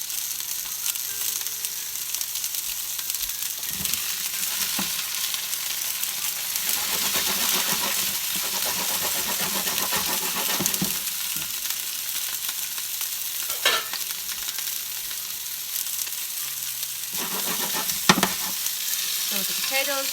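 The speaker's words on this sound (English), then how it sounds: "So the potatoes are nicely cooking." Potatoes frying in a pan with browning onions, a steady dense sizzle running throughout with occasional stirring scrapes and clinks, close and fairly loud with no talk.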